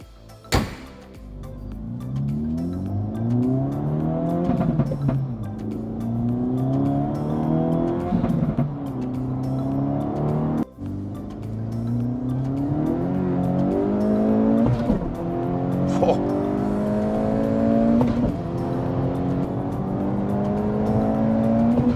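A 2024 Acura Integra Type-S with upgraded suspension and shifter accelerates on a test drive, its engine loudly revving up through repeated rising pulls between gear changes, with brief tire noise and no talking.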